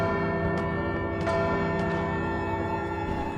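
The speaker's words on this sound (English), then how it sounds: "There's the bell rang." A bell rings in Bloodstained, a steady, loud, sustained metallic toll with rich ringing overtones that hang throughout, struck again a few times.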